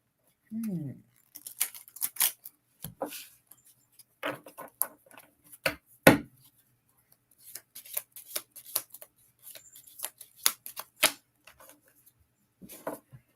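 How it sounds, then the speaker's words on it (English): Tarot cards shuffle by hand in quick, irregular bursts of crisp riffling and tapping, close and fairly quiet, with brief pauses between clusters. "I'm going to shuffle the cards."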